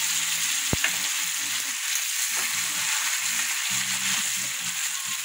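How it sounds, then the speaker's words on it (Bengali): Potatoes sizzle and fry in oil in a wok, a steady bright crackle with stirring and a sharp clink of a utensil early on, close by and without voices. "দেখো কড়াতে আলু ভাজা হয়ে গেছে, আলুও ভাজা হচ্ছে।"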